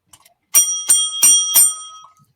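A bicycle bell rings four times in a quick, even sequence, bright metallic dings loud and close with ringing decay, heard alone without talk.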